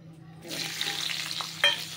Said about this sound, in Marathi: आता हे मस्त तेलात फ्राय करूया